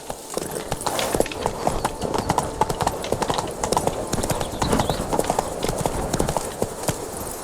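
The horse Roach gallops in The Witcher 3, a fast, rhythmic clatter of hooves that is steady and close throughout, with no talk over it.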